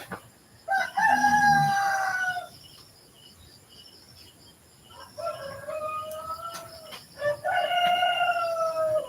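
Two roosters crow in turn in the Philippines, one long call then another a few seconds later, over a quiet background of chirping insects.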